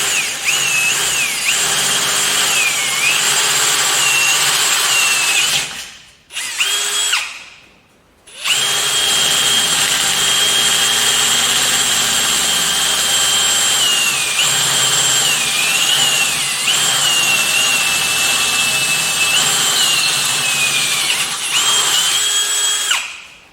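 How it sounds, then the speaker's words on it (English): A power drill whines steadily, drilling holes to 13mm in a metal ARB bullbar for a Suzuki Jimny, running for long stretches with a brief pause and restart partway through; loud and close. "I'll drill that out first."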